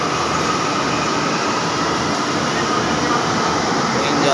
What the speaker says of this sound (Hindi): ट्रेन जाती हुई